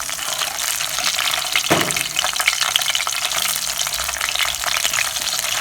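Masala-coated fish frying in oil, a loud continuous crackling sizzle close up, with a brief stronger burst of spatter partway through and no voices.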